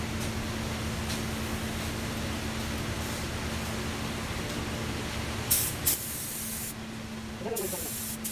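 A spray gun lays a second coat of paint on a 1971 Volkswagen Deluxe Bus, a loud continuous close hiss that runs steadily before a few brief breaks and clicks near the end.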